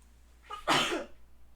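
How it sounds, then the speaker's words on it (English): A single close sneeze erupts after a brief sharp inhale from someone drawing during a live stream, then quiet returns. "Oh gosh, I feel a sneeze coming on."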